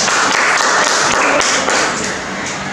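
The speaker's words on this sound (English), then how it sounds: "Okay, give you a clap." An audience applauds a volunteer at a classroom demonstration, a steady dense patter of many hands clapping at close range that tapers slightly toward the end.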